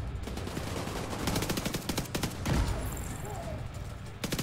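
Rapid bursts of automatic gunfire and explosions in The Division 2 combat, dense and loud, with volleys stacking up before a brief lull and a final crackle of shots.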